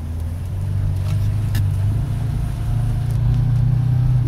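A Lada Niva drives along with a loud, steady low engine drone and road rumble filling the cabin, unbroken throughout, with no voices.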